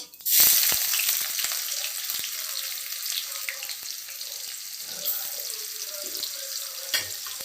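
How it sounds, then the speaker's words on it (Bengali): Onions sizzle steadily in hot oil in a pan with cumin seeds and a dried red chilli, a close, even hiss with occasional sharp crackles and stirring clinks. "পেঁয়াজ ভাজা হয়ে গেছে"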